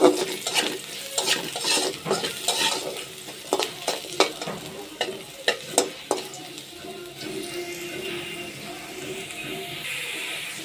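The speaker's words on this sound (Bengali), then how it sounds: "ভাতার জন্য পেঁয়াজ, রসুন, শুকনো মরিচ ভেজে নিচ্ছি" Onion, garlic and dried chillies fry in a thin wok for a mashed-vegetable dish, giving a steady sizzle broken by repeated clattering stirs and scrapes of a utensil against the metal. No one speaks.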